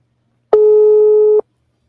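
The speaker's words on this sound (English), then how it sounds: "His phone is ringing." A single outgoing call tone sounds while a telephone call is placed, one loud steady electronic beep lasting just under a second, clean and isolated, with silence before and after.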